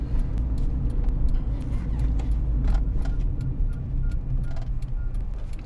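A car's turn signal ticks steadily and faintly before a left turn, a regular clicking over the constant hum of the engine and road inside the cabin.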